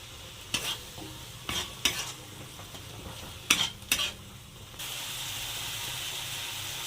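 Spice paste of chili powder, turmeric and slit green chilies frying in a pan while being stirred, with several scraping strokes over a hissing sizzle that grows louder and steadier toward the end, close up and without speech.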